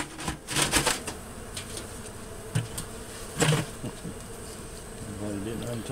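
Honey bees buzzing during a hive removal beneath an elevated house, a steady insect drone with scattered sharp knocks and handling clatter, while someone talks faintly in the background.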